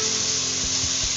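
Fish frying in a pan alongside papaya and potato, a steady loud sizzle running throughout with a few soft low thumps, no voices.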